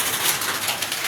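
Heavy rain pouring down outdoors, a dense, loud, continuous hiss of drops with no pauses.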